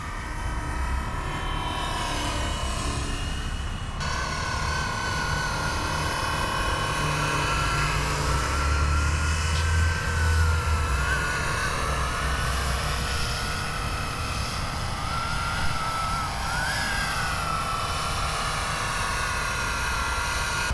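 FlyWing EC-135 RC helicopter with a four-bladed rotor, flying as a big beginner model: a steady, fairly quiet rotor whir and motor hum runs continuously throughout, with no talking.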